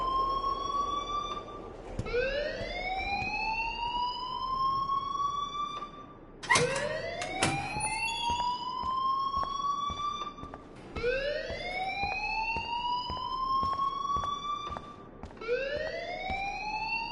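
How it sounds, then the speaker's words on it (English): A school alarm in the video game Life Is Strange wails in loud, repeating rising sweeps. Each whoop climbs steadily and restarts about every four seconds, continuous and close, with no voices over it. "please turn off that alarm since that's your job"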